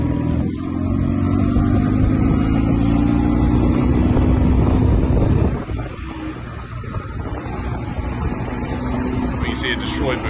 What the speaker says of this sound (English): now they're going to go on a nice little motorcycle ride